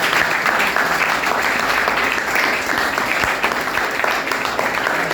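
An audience claps in welcome at a gathering, a dense, even wash of applause held at steady volume for about five seconds without speech.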